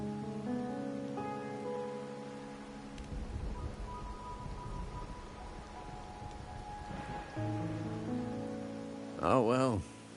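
Steady rain falls in Wuthering Waves as a soft, even hiss beneath sustained musical tones, rising slightly midway before a brief tonal flourish near the end.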